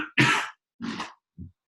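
Three close coughs, a strong harsh one, then a second, then a short faint one, separated by silence.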